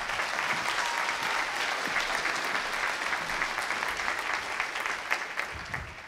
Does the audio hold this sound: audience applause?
yes